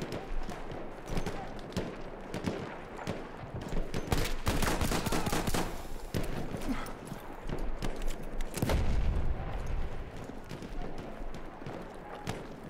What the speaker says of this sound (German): Irgendwer hat auf mich geschossen.